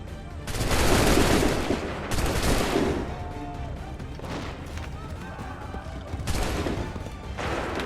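Musket volleys crash out in Assassin's Creed 3, several loud ragged bursts of gunfire rolling across the field, with shouted voices and battle noise underneath.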